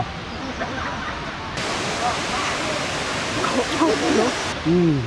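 Tat Kuang Si waterfall near Luang Prabang pours as a dense, steady roar of falling water, loud and close, with a voice heard faintly near the end.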